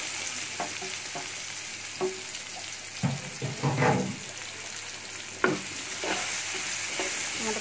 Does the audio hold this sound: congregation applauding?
no